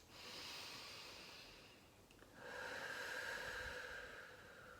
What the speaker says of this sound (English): Take a couple of deep calming breaths.